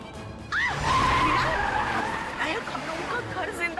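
A car skids with rising tire squeals while it is driven erratically, loud and close, with an engine running beneath and people talking over the sound.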